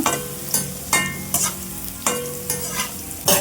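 Ingredients for bitter melon chutney powder fry in a pan over a medium flame, with a steady close sizzle broken by repeated sharp scraping stirs of a spatula about every half second to second.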